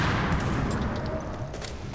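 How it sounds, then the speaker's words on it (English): Rapid video-game gunshots crackle in a dense, sustained burst of firing, loud and close, with no voices over them. "I took out his legs and then I shot him in the face"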